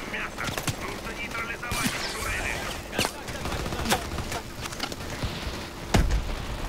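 Turret gunfire in the futuristic shooter game Call of Duty: Advanced Warfare: bursts of rapid automatic shots and heavy booms crack over a busy battle backdrop, with someone talking now and then.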